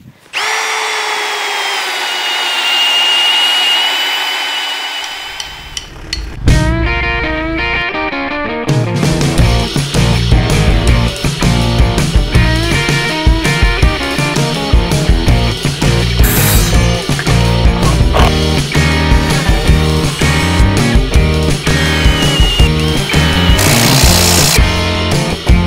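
Milwaukee M18 Fuel cordless impact drill boring into very hard wood in impact mode: a brief high motor whine, then a loud, close, continuous rapid hammering grind that runs nearly nonstop for about twenty seconds.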